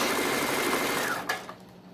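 A sewing machine back stitches fabric for baby slippers, a close, fast, steady mechanical whir that slows and stops near the end.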